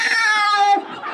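A voice mimics a cat's meow in one drawn-out, wavering, whiny cry, loud and close, trailing off into a softer sound.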